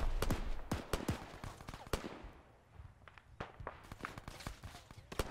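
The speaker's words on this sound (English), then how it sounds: "you can hear more gunfire going on outside" Rapid gunfire in Arma 3 during a battle over Iranian oil fields: dense volleys of sharp cracks, loud at first, then a brief lull before scattered shots pick up again, with a faint rumble of background combat.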